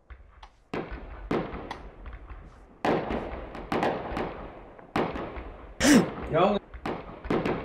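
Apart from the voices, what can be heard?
shooting in the video game Human: Fall Flat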